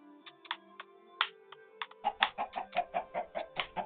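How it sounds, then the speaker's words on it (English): Minecraft chickens cluck after being spawned in the video game, first a few scattered clucks, then a quick, evenly spaced run of loud, close clucking with no talking. "So we're going to spawn in a couple of chickens."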